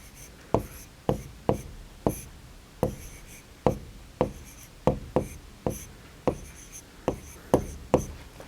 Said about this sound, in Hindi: यहाँ हम लिखेंगे उत्तर, और यहाँ हम लिखेंगे गणेश का खेत बड़ा है।